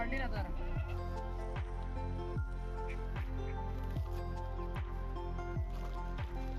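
A goat bleats in steady, repeated calls with a wavering, nasal tone, set against a constant dense background.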